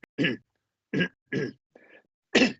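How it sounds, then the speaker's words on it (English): Several short, harsh throaty coughs come in separate bursts with brief pauses between them, close and fairly loud. "It's like a nervous cough"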